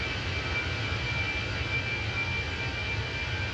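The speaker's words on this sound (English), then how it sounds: "Hear the sound coming out of that engine?" A CFM jet engine on a Fenix A320 in a flight simulator, producing a steady loud roar with a constant high whine running throughout, with no talking over it.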